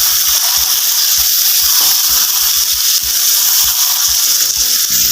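Food being stirred in a pan while it fries for a Bengali Jamai Sasthi lunch platter, giving a loud, steady hiss with repeated scraping strokes of the spoon all the way through.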